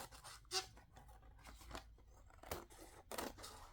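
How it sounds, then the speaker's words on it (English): Scissors snip through paper while a handmade journal cover is being built, a few separate crisp cuts spaced across the moment, close and fairly quiet with no talking. "We'll cut it here and see"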